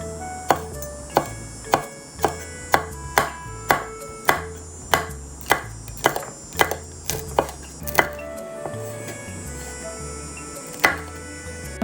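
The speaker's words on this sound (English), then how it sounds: "And cut the pepper into small pieces." A knife chops a pepper into small pieces on a cutting board, steady rhythmic knocks about every half second, close and clear, with a short pause before a final couple of chops.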